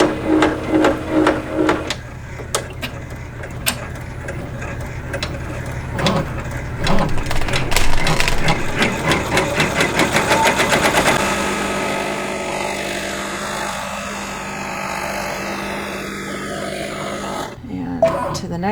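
An embroidery machine stitches out a blanket stitch, a rapid mechanical needle tapping and whirring in bursts that speed up into a dense rattling run, then stop, leaving quiet room sound with a soft voice talking near the end.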